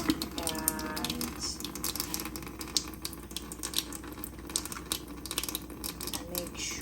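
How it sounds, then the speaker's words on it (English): Tap water pours into a kitchen sink with a garbage disposal during cleaning with a foaming disposal cleaner, a steady hiss and splash with faint clatter and a brief voice. "now I'm gonna reduce the water"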